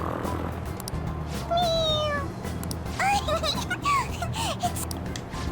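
A game cat in Persona 5 Royal meows several times, with short high mewing calls standing out over background game sound and a soft voice, the calls clustering in the middle of the stretch.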